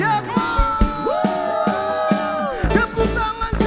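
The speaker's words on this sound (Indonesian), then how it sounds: "Sorak-sorai bagi Rajaku." Church congregation at a Sunday service cheering and shouting praise over loud worship music, with sustained tones and steady beat, voices rising in bursts throughout.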